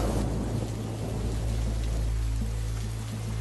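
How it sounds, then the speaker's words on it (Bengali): Cartoon sound effect of heavy rain with thunder: a dense, steady downpour hiss with low rumbling thunder underneath, loud and continuous throughout with no voices. "কি বৃষ্টি শুরু হয়েছে"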